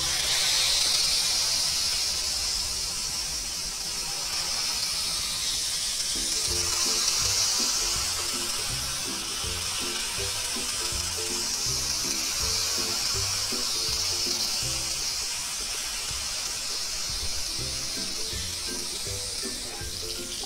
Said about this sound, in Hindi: और वो जो हमने तड़का तैयार किया है वो इस पर डालते हैं।